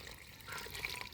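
Water pours from a mug holding about a litre onto the soil of a potted hibiscus, a brief, soft splashing trickle heard alone and close.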